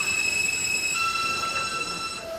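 New York subway W train entering Bay Parkway station, loud rumbling wheels with sustained high metallic squeals and tonal whines as the cars roll in, close and continuous with no talk.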